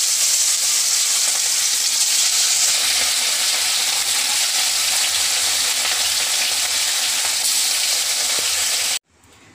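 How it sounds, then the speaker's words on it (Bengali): Pieces of rohu fish fry in smoking-hot mustard oil in a kadai, giving a loud, steady, dense sizzle that runs unbroken for about nine seconds before cutting off abruptly near the end. "এবার আমি মাছগুলোকে একটা একটা করে ভাজবো।"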